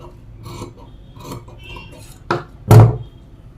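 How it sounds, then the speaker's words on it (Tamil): Scissors cut through blouse fabric in two sharp, crisp snips near the end, following a stretch of quieter handling noise. No one speaks. "குழி பாகம் கட் பண்ணும்."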